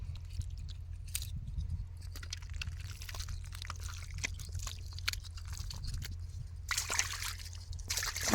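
Water is scooped and flung out during fishing, giving repeated close splashes and sloshing pours in a steady rhythm, with a louder burst of splashing near the end and no talking.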